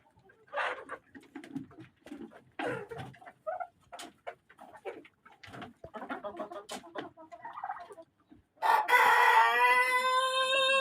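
A rooster crows loudly and close in a home backyard coop, a long harmonic call near the end, preceded by scattered clucks and chatter from chickens and other birds.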